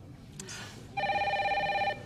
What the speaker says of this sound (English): Phone's ringing, Maggie.